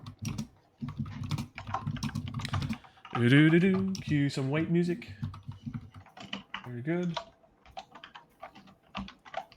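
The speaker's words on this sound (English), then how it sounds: "Hear some typing in the background" Keyboard typing clicks away in the background during a Republic of Rome board game broadcast, steady light taps under a man's speech, with a brief break while he talks.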